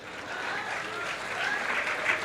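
An audience at a political poetry recital applauds, a moderate, steady patter of clapping heard from some distance that swells slightly toward the end.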